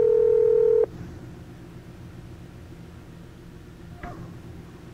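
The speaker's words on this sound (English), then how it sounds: "Because I'm too stupid to push one of those touch tones." Touch-tone telephone keypad dialing on a business phone system: a loud, steady two-note DTMF tone holds for nearly a second, then quiet line hiss, with two brief tone blips later.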